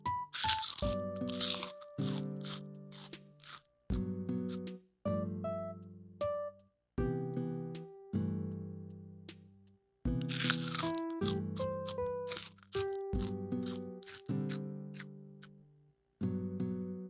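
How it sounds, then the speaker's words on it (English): Loud, close crunching bites right at the microphone, a string of sharp crackling bursts with short pauses between chews, repeating steadily throughout. "It's a big crunch."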